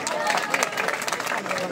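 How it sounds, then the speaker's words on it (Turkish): Guests at a village wedding in Çiçeklidere applaud the bride's father, a dense, steady wash of clapping and crowd hubbub lasting under two seconds with murmuring voices mixed in. "Babaya bir alkış alabilir miyiz?"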